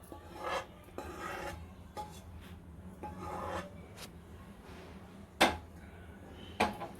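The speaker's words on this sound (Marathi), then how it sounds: "आता एक गूळ घेतलेलं आहे वितळ वितळवलेलं ते आपल्याला गरमच ओतायचं आहे मिश्रणावरती पटापट मिक्स करायचं आहे" Hot melted jaggery is worked into a methi dink ladoo mixture, with repeated soft rasping and scraping strokes in a bowl and a couple of sharper knocks near the end, close and without talking.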